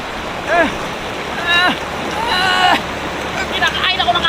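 River water rushes and splashes in a constant broadband wash close to the microphone, while excited voices call out over it in short bursts.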